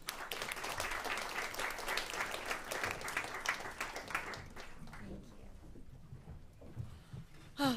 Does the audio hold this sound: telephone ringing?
no